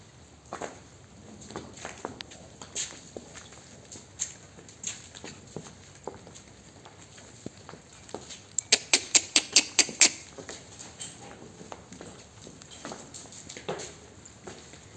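A Holstein Friesian heifer walks, and her hooves land in scattered, irregular steps. Around the middle comes a quick run of sharper, louder knocks over a quiet background.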